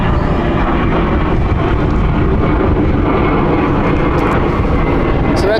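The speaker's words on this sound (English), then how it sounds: "So that Dublin flight will go around." A jet airliner on the Dublin flight goes around at London City, a loud, dense engine roar that fills the whole stretch without letup, close and powerful, with no talk over it.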